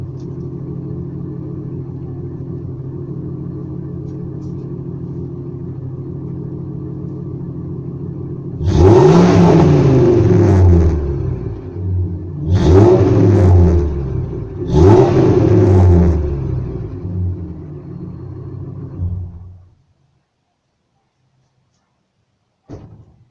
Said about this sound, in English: I'll give it a rev just for poofs and giggles.